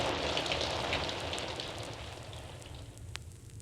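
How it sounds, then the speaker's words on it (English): A deluge of heavy rain, a dense continuous hiss of drops on surfaces with scattered louder splats, holding steady and easing slightly toward the end. "a deluge of rain fell for thousands of years"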